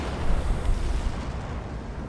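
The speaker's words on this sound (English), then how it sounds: "So there's the explosion again." An explosion sound effect in Star Trek ship footage, a dense rumbling roar heavy in the low end that surges early and then slowly fades into a long, dull rolling tail.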